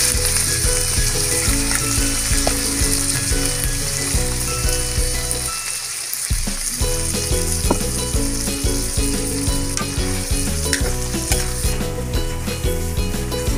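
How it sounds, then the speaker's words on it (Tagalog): Liver goes into a pan with onions and fries with a loud, dense sizzle and crackle that dips briefly and then carries on steadily, with no voices. "ibubuhos na natin yung ating atay"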